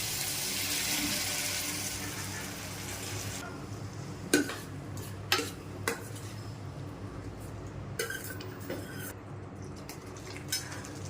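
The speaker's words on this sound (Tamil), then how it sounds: "இப்போ கொஞ்சமாக தண்ணி ஊற்றிக்கலாம்." A little water is poured into a frying pan of spiced dried fish thokku. A short rush of pouring is followed by clinks and scrapes of a utensil against the pan, close and without talk.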